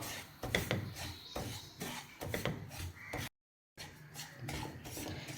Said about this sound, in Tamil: லோ ஃப்ளேமில் வச்சுட்டு இதை அப்படியே ரவை வாசம் வர்ற வரைக்கும் வறுத்து எடுத்துக்கலாம்